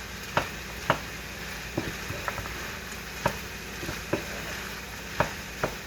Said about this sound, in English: Now, cooking fried rice, the longer you let it cook, the browner it gets.